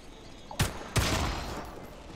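Two sharp pistol gunshots in Atomic Heart, fired a split second apart, close and loud, each followed by a brief echoing tail.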